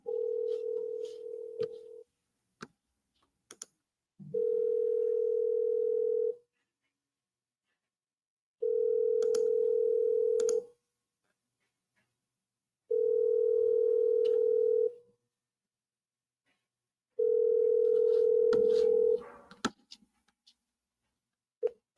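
A telephone ringback tone sounds on an outgoing call, five steady long tones evenly spaced by silent gaps, clear and alone.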